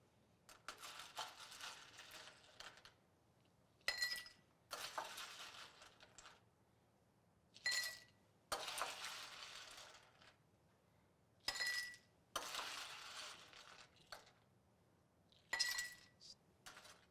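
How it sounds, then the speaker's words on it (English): Ice cubes dropped into a glass over smashed cocktail ingredients, heard as several separate bursts of bright clinking and rattling at close range, with quiet gaps between them. "And now we're going to add some ice to our glass."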